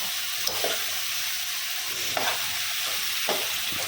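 Okra and eggs stirred in a sizzling pan for a Telugu bendakaya egg pulusu, steady frying hiss broken by three scraping spoon strokes spaced a second or so apart, close and alone without voices.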